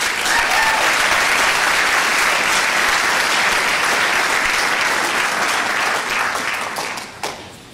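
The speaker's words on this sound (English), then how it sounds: "please give a big round of applause" An audience at a college speech night applauds loudly and steadily in a packed hall, the clapping thinning out at the end into a few scattered claps.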